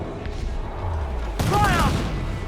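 Cannon fire from pirate ships in Assassin's Creed 4 Black Flag, heard as a sudden loud broadside blast that rumbles and lingers, with shouted crew voices over the top.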